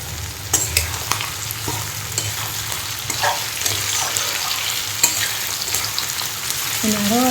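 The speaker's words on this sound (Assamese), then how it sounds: "এনেকৈ ভাজি আছোঁ মই" Pork fried dry in a pan is stirred steadily, with a continuous sizzle and repeated scraping of the utensil against the pan, close and fairly loud, with no talk.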